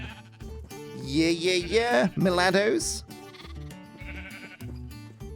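Sheep in a Minecraft modpack farm bleat loudly in a wavering, drawn-out call near the middle, surrounded by shorter game sounds and someone talking.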